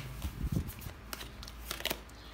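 Tarot cards handled and laid down one after another: close, papery slaps and soft rustles in quick irregular bursts, with no talking.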